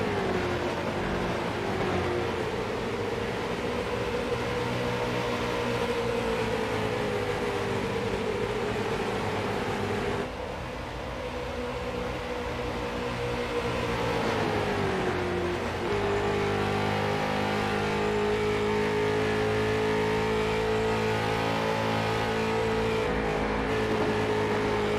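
Street stock race cars in an iRacing sim race at Rockingham Speedway, a steady engine drone with shifting pitch running throughout, the tone dipping and climbing as the cars lap.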